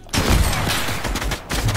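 A rapid, loud burst of gunshots from the video game Fortnite rattles on for under two seconds, with a brief pause and then another burst.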